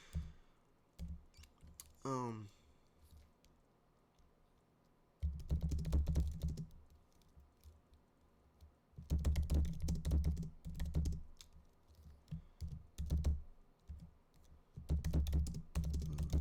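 Typing on a computer keyboard into ChatGPT comes in several bursts of fast, close key clicks, separated by short pauses, with a brief vocal sound early on.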